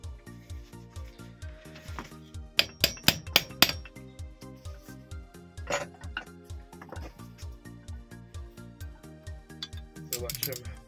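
Hammer blows on a stuck screw on a Karcher machine being stripped for scrap, heard as bursts of several quick, sharp metallic taps over a steady rhythmic background.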